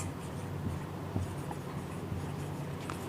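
Chalk or marker writing on a board in a classroom lesson, a steady scratchy stroking that runs throughout with a few short taps, moderately close and alone.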